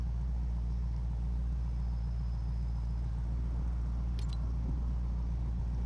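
A car engine in Fortnite hums as a steady low drone, with a brief metallic clink partway through and no other activity.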